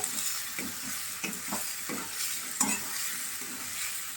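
Potatoes being stirred with spices and salt in a hot frying pan, with repeated scraping and clattering strokes of a spoon over a soft continuous sizzle, close and fairly quiet, no voices.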